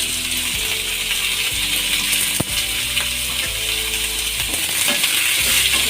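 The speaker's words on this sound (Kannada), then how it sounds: "ಎಲ್ಲ ಹಾಕಿ ಚೆನ್ನಾಗಿ ಫ್ರೈ ಮಾಡ್ಕೊಳ್ಳೋಣ" Tomato, ginger and garlic fry in a pan with a steady, bright sizzle, broken by a few clicks and scrapes of stirring, with no voices.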